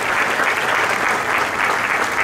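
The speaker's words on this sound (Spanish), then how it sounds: "pido un fuerte aplauso para cada uno de ustedes" Loud, dense applause from a seminar audience on sustainable tourism and renewable energy, a steady wash of clapping that holds at full strength for a couple of seconds with no voices on top.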